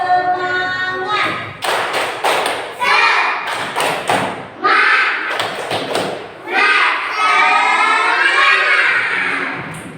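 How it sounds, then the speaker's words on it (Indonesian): A group of children does a rhythmic clapping chant in an Indonesian classroom lesson, loud bursts of claps and thumps alternating with chanted voices in a quick repeating pattern. "Biar semangat, ayo tepuk semangat."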